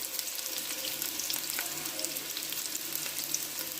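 Sliced onions browning in hot oil in a pan, a dense steady close sizzle with faint crackles and no break, no talking.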